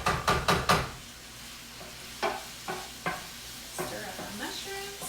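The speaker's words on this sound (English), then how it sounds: "Stir up our mushrooms." Mushrooms sizzle in a pan during risotto cooking, stirred with a utensil: a burst of quick scraping strokes, then slower, separate stirs over a soft, steady sizzle, with no talk.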